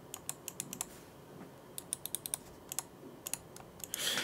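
Clicks from an MSI Clutch GM51 lightweight gaming mouse: quiet, sharp, close-up clicks in quick bursts of several at a time, separated by short pauses, heard alone.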